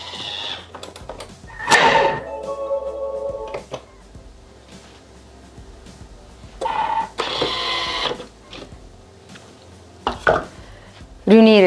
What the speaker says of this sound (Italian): lo facciamo tritare per 10 secondi a velocità 10